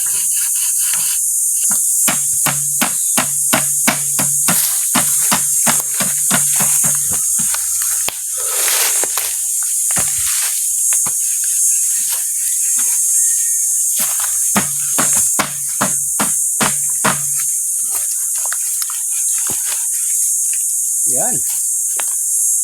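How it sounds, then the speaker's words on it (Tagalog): Rapid, rhythmic rasping strokes in repeated bursts as a machete saws through bamboo, loud and close, with short pauses between runs. "Ginawa ng lagari yung itak."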